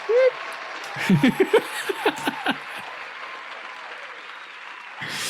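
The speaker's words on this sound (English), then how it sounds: "let me give a round of applause to my missus" A podcast audience gives a short burst of clapping mixed with some chuckling. A voice is heard briefly, and then the sound settles into quiet room tone.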